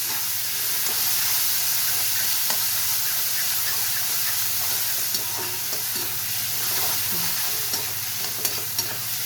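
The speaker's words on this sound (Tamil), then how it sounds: "இப்போ வந்து வெங்காயம் வதங்கிடுச்சு நம்ம என்ன சேர்க்குறோன்னா தக்காளி சேர்த்துக்கலாம்" Onions and tomato fry in a pan for a village-style dried fish curry, giving a steady, close hiss and sizzle with occasional light stirring taps throughout.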